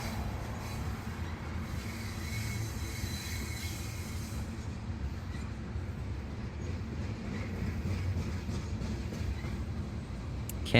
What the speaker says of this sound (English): I was trying to record my train noises.